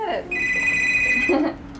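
An old telephone rings in a college dorm room setting, giving a single sustained electronic ring tone that cuts in loudly and fades after about a second, with voices around it.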